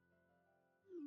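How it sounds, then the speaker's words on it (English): A cat meows once near the end, a rising, fairly clear cry over a low steady hum, not especially close. "You can hear the cat meowing"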